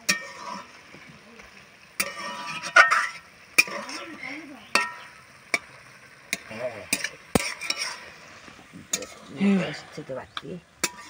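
A spoon scraping and stirring bottle gourd dal in a wok, with intermittent metallic clinks and soft sizzling bubbles, close and fairly quiet in irregular strokes.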